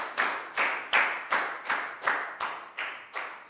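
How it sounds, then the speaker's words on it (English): Hands clap together in a steady, even rhythm, about nine sharp claps in a row, close and moderately loud, with no talking. "Big round of applause for Pak Bung."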